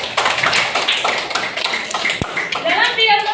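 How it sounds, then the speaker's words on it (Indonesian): A classroom of students claps for a classmate named Ayuning, a quick burst of dense hand claps and taps with people talking as it fades. "tepuk tangan buat Ayuning"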